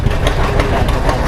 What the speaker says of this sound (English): Here we're getting towed by a working tractor.